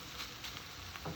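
Ground meat frying in a pan while being broken up, a quiet, steady sizzle with light scraping and stirring taps, close and faint with no talk.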